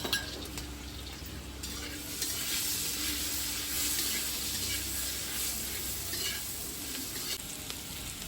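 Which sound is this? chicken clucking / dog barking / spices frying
spices frying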